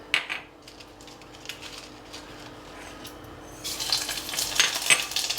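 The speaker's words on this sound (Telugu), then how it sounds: "ఇదిగోండి నూనె కాగిని, ఆవాలు, జీలకర్ర, మినప్పప్పు, శనగపప్పు" Mustard seeds, cumin and split lentils sizzle and crackle as they are stirred in hot oil, with soft scraping in the pan before the frying grows louder and brighter toward the end, no talk.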